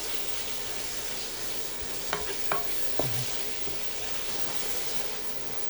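Green onions and cilantro sauteing in a pot, a steady broad sizzle with a few sharp utensil clicks and taps near the middle, no talking.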